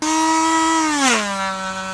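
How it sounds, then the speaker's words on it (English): A Dremel rotary tool cutting off a fishing rod reel seat gives a loud, steady high whine whose pitch dips partway through as the cut loads it, alone without talk. "To remove the reel seat you will need the Dremel and a wider screwdriver, flat screwdriver."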